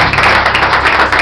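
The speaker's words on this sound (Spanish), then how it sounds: "¿Cuánto le da un aplauso al Señor?" A church congregation claps together in a dense, loud burst of applause, steady and close for a brief moment with no voices over it.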